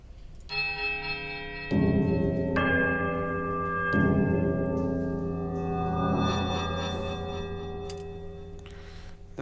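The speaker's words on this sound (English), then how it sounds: "The largest bell needs to be struck second." Bells in the video game Pillars of Eternity are struck one after another, four clear ringing strikes of different pitches with long shimmering decays overlapping, close and alone.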